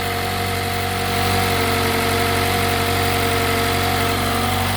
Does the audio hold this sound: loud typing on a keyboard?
no